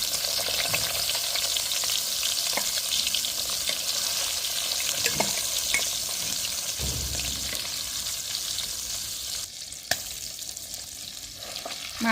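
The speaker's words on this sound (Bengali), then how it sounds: "এখন এটা আমি ভেজে নিচ্ছি।" Fish pieces marinated with salt, turmeric and chili powder sizzle in hot oil in a home kitchen, a steady crackling hiss broken by a few sharp pops and the scrape of stirring.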